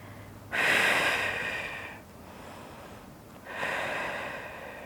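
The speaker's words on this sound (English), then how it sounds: "taking a few breaths." Slow, deep breaths during a floor stretch in a Pilates core flow, knees dropped to one side: a long airy inhale-exhale, a pause, then another breath, close and fairly soft, with no talking.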